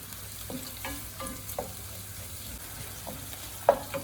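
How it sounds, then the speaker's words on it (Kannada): Onion frying in a pan until reddish, a faint, steady sizzle under a few soft stirring scrapes and one sharper utensil clink near the end, quiet and close with no speech. "ಈರುಳ್ಳಿ ಸ್ವಲ್ಪ ಕೆಂಪಗಾಗೋವರೆಗೂ ಫ್ರೈ ಮಾಡಿ"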